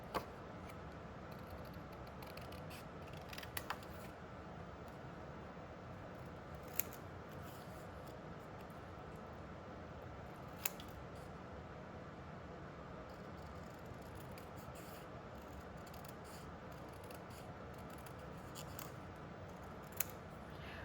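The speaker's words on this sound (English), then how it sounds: "And I'm just going to freehand cut this." Scissors freehand cut paper for a scrapbook page, a soft continuous shearing close up with a few sharp little clicks scattered throughout, quiet overall.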